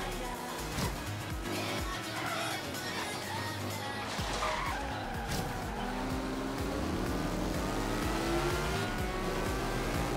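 Tricycle car racing in Forza Horizon 3 on Xbox One, with a buzzing, revving engine, tire squeal and skidding through corners and a continuous loud engine drone under the game's racing sounds.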